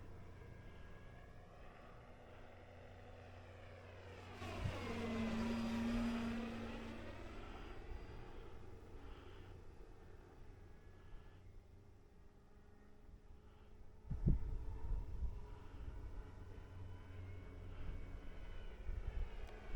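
A small engine on a Carbon Z T-28 Trojan radio-controlled model airplane whines and buzzes overhead, rising in pitch as it passes close by, then fading into a steady distant drone.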